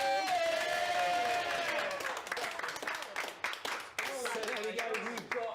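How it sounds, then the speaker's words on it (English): A crowd applauds at a student leadership election results show, honouring newly elected committee members; clapping and cheering fill the room under a loud host's amplified voice as the applause carries on. "Give them another round of applause"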